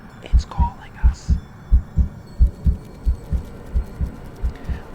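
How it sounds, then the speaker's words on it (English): In the game Mortal Shell, a deep, steady heartbeat thumps in regular paired beats, loud and close, over a low ambient drone. "A little heartbeat effect."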